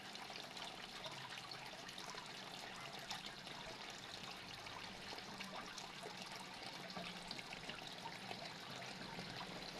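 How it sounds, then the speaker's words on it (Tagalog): Water running into a crayfish pond, a continuous soft trickle and splash at low level that holds steady with no talking. "Magdagdag kasi ako ng tubig mga kapit lovers."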